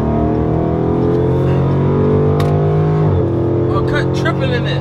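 A Dodge Charger SRT 392 engine hums as a steady, close drone, then shifts pitch sharply partway through as it builds toward a launch, with talk over it.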